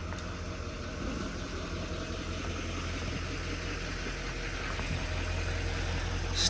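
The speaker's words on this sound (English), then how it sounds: "Truck's warming up." A truck engine idles steadily as it warms up, a low continuous rumble with faint knocking vibration holding at an even level throughout, with no talking.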